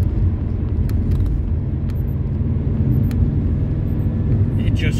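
A Subaru Legacy GTB E-Tune drives on the road, its engine and tyre rumble steady and loud from inside the cabin with a slight rise under acceleration.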